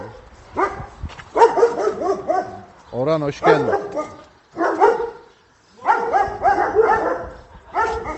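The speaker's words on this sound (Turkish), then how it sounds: "Otur otur otur da havlamasınlar." Dogs bark in short bursts close by on a farm, with someone talking over and between the barks.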